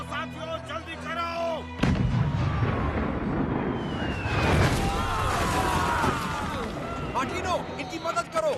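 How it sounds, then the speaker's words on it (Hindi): Heavy booming cannon fire erupts and rolls on continuously, loud and chaotic, with voices shouting amid the blasts. "तोपें तैयार करो, हमें हमला करना है।"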